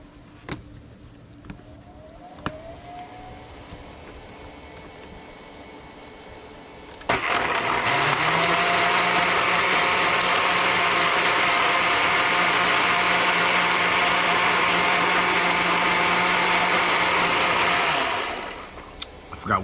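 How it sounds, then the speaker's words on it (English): A countertop blender kicks on after a quiet stretch and whirs loudly and steadily for about eleven seconds, blending al pastor marinade with white vinegar, then winds down abruptly. "we're gonna get her going in the blender"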